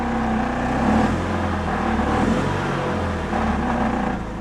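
Engine of a 1993 Pontiac Grand Am with 70K miles, given a little throttle while idling roughly, a close steady drone that rises slightly with the revs and holds.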